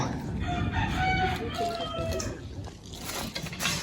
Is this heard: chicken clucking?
yes